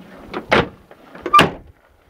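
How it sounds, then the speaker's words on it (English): The rear barn doors of a Chevrolet Suburban in a pick-a-part junkyard are swung shut, making two separate, solid, close thuds about a second apart, the second louder, with quiet between them. "Barn doors."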